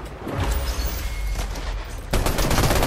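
Video game gunfire from a competitive duo match crackles in rapid bursts, with scattered shots early and a louder, denser volley breaking out near the end.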